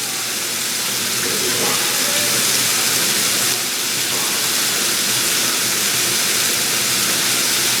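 Shrimp fry in a field skillet with a loud, steady hiss and crackle that runs without a break throughout.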